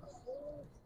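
An old-breed Giribaz pigeon gives one soft, drawn-out coo at close range in a quiet setting, followed by a brief faint chirp at the end.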